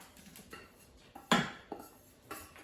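Copper-colored gumbo roux scraped back into a pot, a few quiet clinks and knocks of a utensil against metal scattered irregularly over faint background hiss, one louder scrape in the middle.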